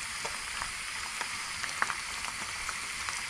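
Garlic, curry leaves and onion frying in hot oil for a black gram (urad) dal, giving a steady close sizzle with small crackling pops scattered throughout.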